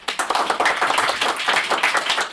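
Audience at a Department of City Planning talk clapping, a dense, steady, fairly loud burst of many hands clapping together throughout.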